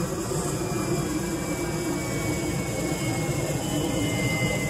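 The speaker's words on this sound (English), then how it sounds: "airplanes don't help either." A jet airplane passes overhead at night during a telescope session, a steady broad roar that fills the whole stretch at moderate, even loudness with no talk over it.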